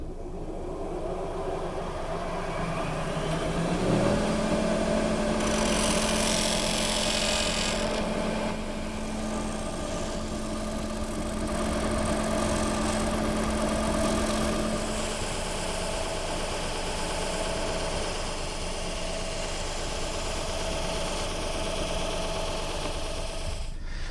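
A sanding machine motor whirs up and runs with a steady droning hum, a harsher grinding rasp joining briefly as it sands a wooden chair part, then continuing to run evenly.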